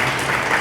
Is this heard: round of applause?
yes